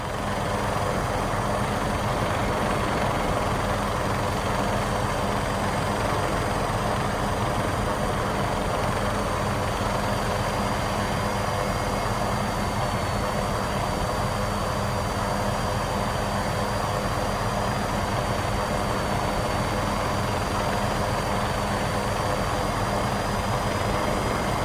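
A helicopter lifts off in a flight-simulator game set at UCLA Medical, its engine and rotor making a loud, steady, dense roar with a faint high whine that holds unbroken for the full stretch, with no talk.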